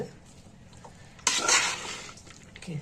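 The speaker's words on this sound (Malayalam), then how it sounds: "കുറച്ച് മല്ലിയില ഇട്ട് നമുക്കിതും കൂടെ ഒന്ന് ഇളക്കി കൊടുക്കാം" Tomato rice with chopped coriander leaves being stirred in a pan over a low flame, a soft scraping and rustling burst of a spoon moving through the rice, close up with faint clinks.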